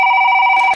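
A telephone bell rings in one steady, continuous electronic tone, loud and close, cutting off abruptly at the end, with no voices over it.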